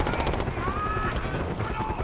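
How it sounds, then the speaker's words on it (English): Gunfire in the Call of Duty Black Ops 6 game, a sustained rattle of rapid shots with a faint whine running through it, heard together with radio-style voices. "We've got gunfire to the right."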